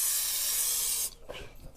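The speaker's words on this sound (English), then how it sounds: "we're gonna like spray the air fryer" A sustained hiss from an aerosol oil spray into an air fryer lasts about a second, then stops, followed by faint clicks and rustling.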